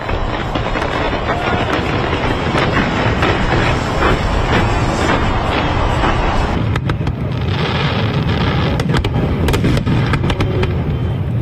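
New Year fireworks over Dubai, including Burj Khalifa, Global Village and Palm Jumeirah, make a loud, continuous roar of dense crackling and booms that never lets up, with voices faintly mixed in.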